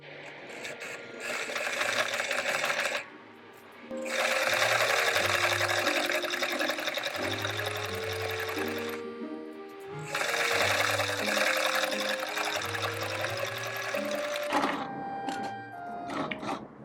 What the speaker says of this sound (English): I'm going to sew all of the initial seams, then I'll press it and sew the actual outer seams.